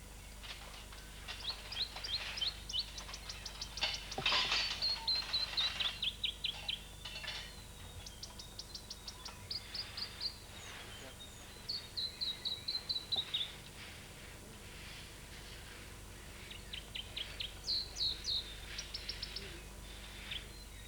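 Birds call repeatedly from a New Zealand forest canopy in bursts of rapid, high chirps and trills, with insect-like buzzing between them, moderately distant in an otherwise quiet setting.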